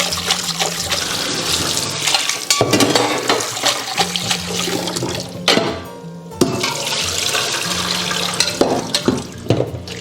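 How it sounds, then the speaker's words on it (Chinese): Pork liver rinsed under running tap water in a home kitchen, a steady close splashing stream that runs for several seconds, briefly dips, then resumes loud and continuous with no talk. "接着再用流水多冲洗皮"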